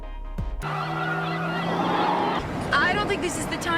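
Geese honk in a horror-themed TV episode during a car attack on a theme-park island. A low engine drone comes first, then a burst of overlapping honks and squawks in the second half, with voices nearby.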